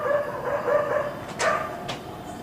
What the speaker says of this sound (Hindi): कुत्ते किसको देख के भौंक रहे हैं?